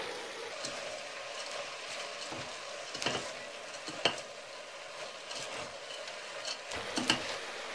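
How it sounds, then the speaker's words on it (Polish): Cabbage and softened vegetables fry in a pan for cabbage-roll soup, giving a steady sizzle broken by scrapes and clicks from stirring. "Teraz dodaję kapustę. I też mieszając będę smażyć przez kilka minut."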